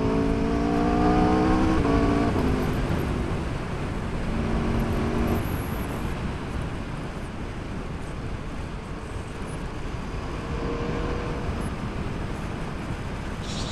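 Aprilia RSV4 Factory superbike from 2019, engine pulling hard on acceleration while riding, with rising harmonic whine early on over heavy, steady wind roar throughout.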